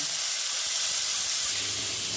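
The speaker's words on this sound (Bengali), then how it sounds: "তেল যেহেতু গরম হয়ে গেছে আমার, তো সিমটা মাখিয়ে দিয়ে দিলাম ভাজার জন্য" Flat beans coated in a rice flour and gram flour batter fry in hot oil, giving a steady, close, bright sizzle and hiss with no pauses and no voices.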